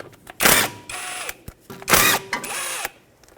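Two short whirring bursts of a power tool loosen the small rotor bolts on a Fiat 500 front hub, each burst close and loud with a clicking tail as it spins down, no talking.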